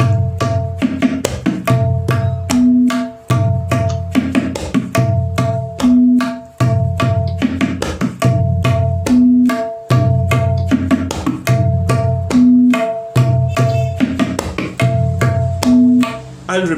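Tabla played fast in the Tirakita bol, rapid rhythmic strokes in repeating cycles with crisp finger taps and deep resonant bass hits, close and loud with no voice.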